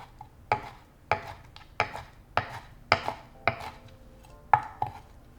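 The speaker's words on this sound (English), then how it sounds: "now just cut the chiles into strips. And then into small little cubes." Eight sharp knife chops cutting chiles on a cutting board at a steady, slightly uneven pace, close and crisp with quiet gaps between each strike.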